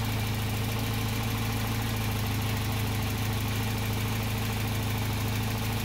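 A car engine idles at about 800 RPM, a steady, even hum with a low throbbing pulse, close and unchanging throughout, no talking.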